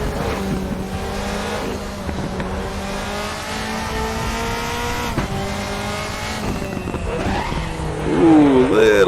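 DTM race car from the 2003–2005 era under throttle in the RaceRoom racing game at the Nürburgring, a steady loud engine drone with rising pitch and a brief tire squeal near the end, a voice talking over it.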